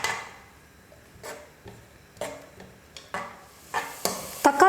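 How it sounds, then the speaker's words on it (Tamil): Tomato paste cooking down in a pan for tomato rice, stirred in a run of scrapes and soft sizzles that recur roughly every second, close by and moderately loud, with no talking. "சேர்த்துருக்கிற தக்காளியோட பச்சை மணம் நல்லா போகிற வரைக்கும் நல்லா குக் பண்ணிக்கணும்"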